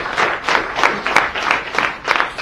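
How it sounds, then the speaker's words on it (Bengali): A room full of people bursts into hearty applause, loud and close, with the clapping swelling in rhythmic waves for a couple of seconds. "এবার নিজেদের জন্য জোরে হাততালি।"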